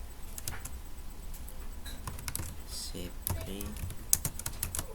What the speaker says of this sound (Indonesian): Coba usianya kita mengetik, kita input dalam bentuk teks